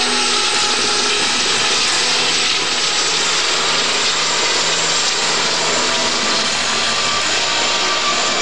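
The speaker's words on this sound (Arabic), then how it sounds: "ظهر تشكيل من طائرات لام 29 مشكلة رقم 67" A formation of L-29 jet trainers passes overhead at a military graduation air show, a loud, steady broadband jet roar that holds throughout with no speech.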